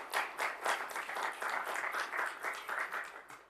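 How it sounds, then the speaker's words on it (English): Audience applause at an opening plenary session of a conference, a dense steady patter of many hands clapping for the team, filling the room at moderate distance with no talk over it. "Can I have a huge round of applause for the team?"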